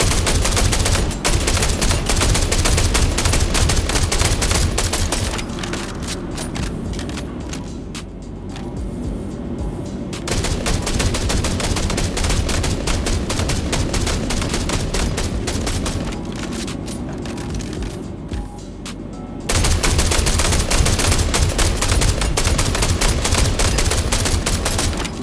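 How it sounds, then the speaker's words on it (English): Two rifles, the Behring P8-AR and the Gemini S71, fire in the space game Star Citizen, held without recoil control: long, loud, dense automatic bursts that pause briefly between strings of fire. "firing the guns uncontrolled, meaning not compensating for the recoil, letting it just shoot with the recoil wildly at the point of interest"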